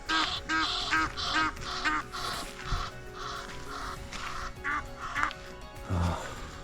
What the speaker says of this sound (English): that's me spooked all the birds out of the bay